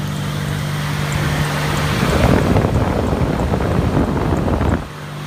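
A replacement AC condenser fan on a 2002 Dodge Ram 1500 SLT 5.9L swells into a loud, steady rushing roar of air. It holds for a few seconds and then drops off abruptly, with no voices over it.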